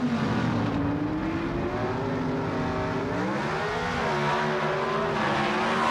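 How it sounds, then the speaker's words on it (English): Gasoline-burning Pro Stock drag race cars at the 1980 NHRA Springnationals, a loud, sustained engine roar with rising and falling pitch as the cars charge down the strip, heard from a distance and without voices. "the gasoline-burning Pro Stock cars race to the finish line, and a close race it is"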